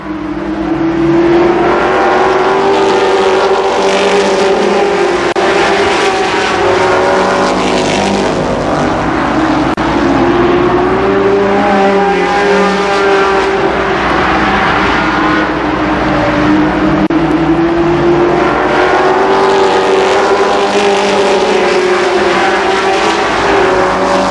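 Super late model race cars roar around Columbus Motor Speedway in a 1992 feature race, engines loud and sustained with pitch sweeping up and down as the pack passes, a constant wall of engine noise.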